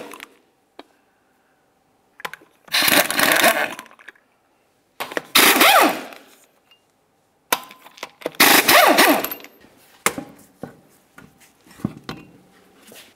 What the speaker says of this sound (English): continue on to removing all six of your lug nut covers and the lug nuts located behind them